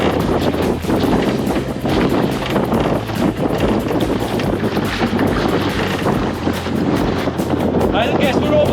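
Strong gusty wind over 20 knots buffeting a microphone aboard a small sailboat with a balanced lug sail, a loud continuous roar with rushing water and speech-like voice underneath throughout.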